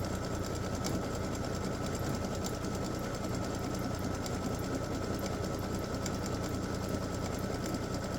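An embroidery machine works through a satin stitch on a Christmas gnome appliqué, humming in a constant close mechanical drone with a dense fast needle rattle and no pauses or talk.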